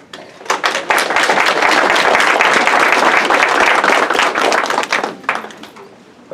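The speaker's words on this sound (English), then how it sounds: "so by the applause" Applause from attendees at a county brainstorming meeting on fairgrounds budget cuts, a loud dense burst of clapping that swells quickly, holds for several seconds, then thins out.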